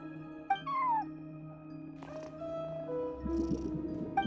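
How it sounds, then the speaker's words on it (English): A cat meows and purrs at a front desk in the video game Genshin Impact, with a few short meows over a soft purr and game music. "No one except for a cat watching over the front desk."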